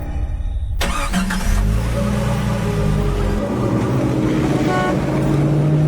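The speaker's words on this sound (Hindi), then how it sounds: "लक्ष्य अपनी गाड़ी से आनंद के घर पहुंचता है" A car drives up and arrives at a house, its engine a steady loud mid-range hum with a rising tone, heard alone without speech.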